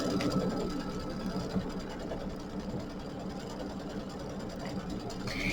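An embroidery machine stitches a placement line for a pennant on fabric, a rapid, even mechanical chatter and hum running steadily throughout, close and unaccompanied by speech.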